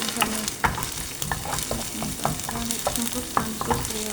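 Onions sizzle as they fry in a pan, with repeated sharp scrapes and knocks of a spoon stirring them at an uneven rhythm, close up and without talk.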